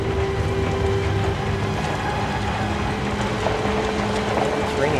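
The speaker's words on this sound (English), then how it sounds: "It's raining outside." Steady rain falling outside in the horror video game Outlast, a constant hissing wash with a low rumble underneath, even and unbroken throughout.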